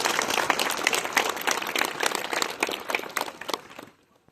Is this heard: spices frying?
no